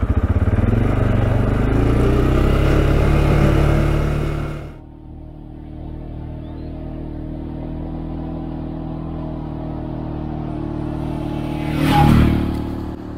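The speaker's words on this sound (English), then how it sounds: "I had to jump off the ATV and put on a four wheel and drive in reverse to get it up." A CFMOTO CFORCE 520 L ATV engine revs hard and close while driving in reverse up a hill, then drops abruptly to a lower steady idle, with a brief swell of revving near the end.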